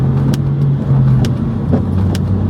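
A BMW 218i F22/F23 coupe with 140 horsepower runs with its exhaust valve bypassed, giving a steady, fairly loud engine drone up close with a brief dip and then a rise in revs.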